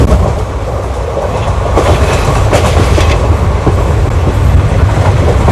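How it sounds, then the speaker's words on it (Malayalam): West Coast Superfast Express sleeper train running on rails, a loud continuous rumble with rhythmic clickety-clack of wheels over rail joints, heard close from inside the coach. "ഇപ്പോൾ ഇവിടുന്ന് ട്രെയിൻ ഡിപ്പാർട്ട് ചെയ്തു."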